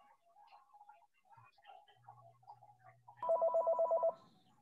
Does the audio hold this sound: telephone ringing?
yes